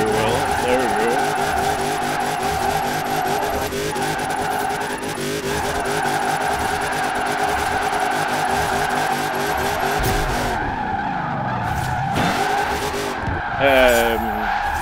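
A car in Forza Horizon 4 drifts through the Ashbrook Lane drift zone with the accelerator held and the handbrake pulled, giving a loud, sustained engine whine and tire squeal that breaks off and shifts near the end.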